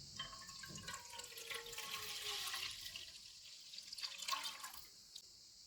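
Milk, a full litre, poured from a height into a pot for an almond milkshake, a steady watery splashing and trickling stream that swells and then tapers off, fairly faint.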